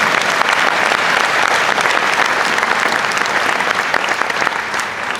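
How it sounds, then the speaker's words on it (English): A large crowd at a Disney Imagineering panel at a fan expo breaks into loud, dense applause that goes on at an even level with no pauses. "I'll clap for that even now."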